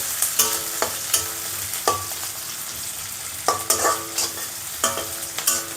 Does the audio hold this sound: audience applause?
no